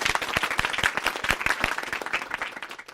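Audience applause after a youth dialogue event, dense steady clapping from many hands that fills the room and carries on unbroken, slowly easing off toward the end.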